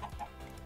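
A Minecraft chicken clucks twice in quick succession, short and fairly faint, with no talk over it.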